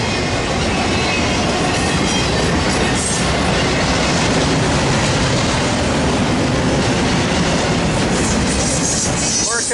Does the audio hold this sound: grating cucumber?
no